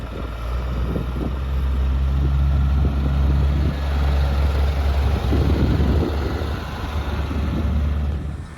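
A diesel overland vehicle drives a bumpy road between Georgia and Turkey, heard from inside the cab as a loud, steady low engine and road rumble with occasional knocks and rattles from the rough surface.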